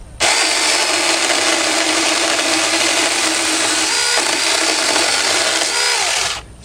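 A mini 4-inch chainsaw cuts through a 1 to 1.5 inch piece of hard mesquite wood, producing a loud, steady, high-pitched motor whine that runs for about six seconds and then cuts off.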